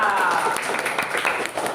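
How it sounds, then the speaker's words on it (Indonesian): Classroom applause for a student group, a dense wash of many hands clapping together, steady and close for under two seconds with voices mixed in. "Tepuk tangan untuk kelompok 3"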